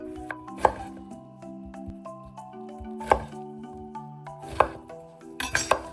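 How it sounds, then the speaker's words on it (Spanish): A knife slices zucchini into rounds and half-moons on a cutting board, with a few sharp, well-spaced chopping knocks over soft background music. "Primero cortamos el calabacín en rodajas y luego en medias lunas"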